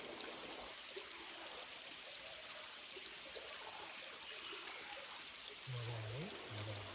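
A forest stream flows in a quiet, even rush of water, faint and steady, with a brief low tonal sound near the end.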